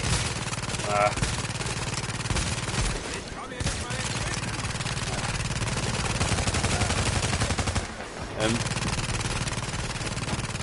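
Gunfire in The Division shooter game, dense bursts of automatic shots and volleys crackling almost continuously, loud and close, with a couple of short lulls and faint game sounds underneath.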